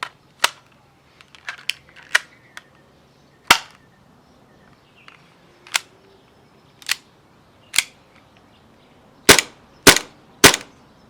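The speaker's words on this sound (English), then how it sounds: "I'm using my P99 spring airsoft pistol" A P99 spring airsoft pistol fires a series of sharp, dry snaps. About a dozen shots come at irregular intervals, some louder than others, and the last three follow in quick succession, with faint handling clicks in between.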